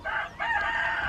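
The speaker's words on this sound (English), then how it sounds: "My chickens are still in the pen." A backyard rooster crows once, a short, loud, close call broken by a brief pause before a strained, rising second part.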